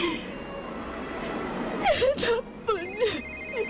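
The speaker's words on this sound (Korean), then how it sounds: "계속해서 전화벨이 울리고 있었다." A telephone bell rings in a Korean radio drama, two short bursts of warbling trills rising over a soft background hush, fairly clear and alone without talk.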